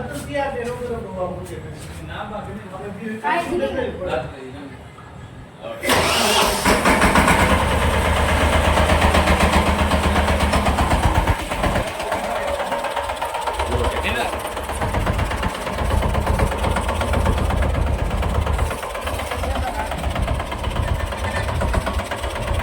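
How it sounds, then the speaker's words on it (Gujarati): A new Captain tractor's engine fires up abruptly after a few seconds of background voices, then settles into a loud, steady, rattling idle that runs on with a rhythmic knock. "ટાઈમ થઈ ગયો છે ટ્રેક્ટર વારવાનો."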